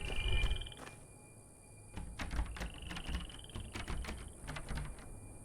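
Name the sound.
tiny frogs croaking in the bushes, from the video game Obduction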